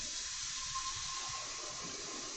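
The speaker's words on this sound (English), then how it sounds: "So I'm gonna add to that, I think, 8 cups of water and 2 tablespoons of vinegar." Water runs into a dye pot for knitting yarn, a steady faint rushing pour with a soft hiss that holds even throughout, with no voices.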